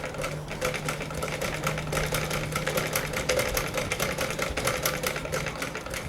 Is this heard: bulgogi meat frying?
no